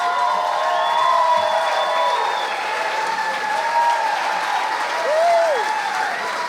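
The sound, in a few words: audience applause and cheering at awards ceremony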